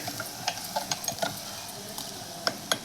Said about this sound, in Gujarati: આનું શાક વઘારે છે